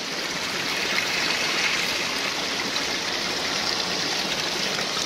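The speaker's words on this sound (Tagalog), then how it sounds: "Mo ni siya ang spring ato imnan karon mga kapayag." Spring water flowing steadily near a river, a continuous close rushing and trickling wash that stays even throughout, with no voices.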